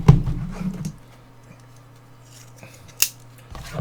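A dull knife cuts into the wrapping of a 2022 Topps Chrome baseball card blaster box, giving a close scraping slice at the start, quiet handling, then one sharp snip-like click near the end.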